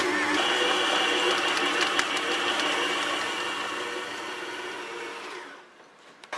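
An electric mixer kneading dough whirs steadily at close range, a dense motor hum that runs evenly for about five seconds before cutting off abruptly near the end, with no voices over it.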